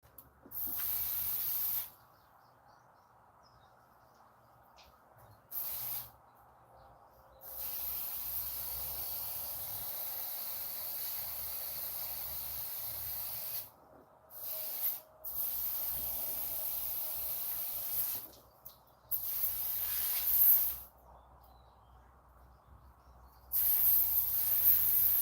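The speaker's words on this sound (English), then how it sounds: "This would not be a good time for my airbrush to go kaput." An airbrush spraying paint on fishing lures, heard as repeated bursts of bright, airy hiss lasting a few seconds each, with quieter gaps between them.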